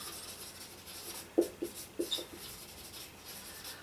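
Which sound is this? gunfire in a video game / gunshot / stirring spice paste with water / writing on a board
writing on a board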